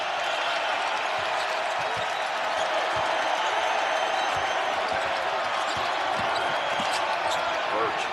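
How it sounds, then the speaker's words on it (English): Arkansas basketball crowd roaring steadily through a game against Baylor, a dense, loud arena wash of cheers with sneaker squeaks and ball bounces scattered underneath. "The Arkansas crowd trying to get the Razorbacks in this game."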